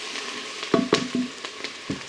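Onions frying for corned beef hash in an air fryer, a faint steady sizzle with a few soft clinks and stirring knocks, heard alone.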